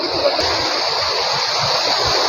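Rushing water from a stream swollen by heavy rain, a steady, dense, close roar with no breaks, loud and continuous with no voices.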